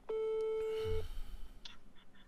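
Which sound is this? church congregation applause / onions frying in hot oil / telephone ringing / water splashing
telephone ringing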